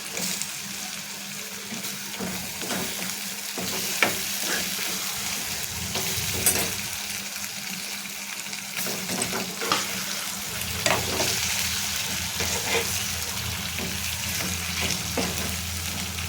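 Small fish sizzle in spice paste in a pan, stirred and turned: a continuous close hiss with scraping and clinks from the utensil, and a faint running-water rush in the background, no voices.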